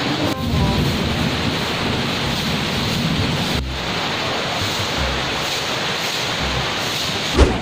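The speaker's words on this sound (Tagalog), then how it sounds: "Papakita ko sa inyo ang bagyo" Storm at sea near Busuanga, Palawan, Philippines, with strong wind gusting over the microphone and waves surging continuously, a dull thump near the end, no voices.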